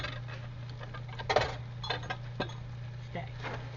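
A whisk taps against a 2-cup Pyrex glass measuring cup in a home kitchen, giving a few light, scattered clinks over a steady low hum.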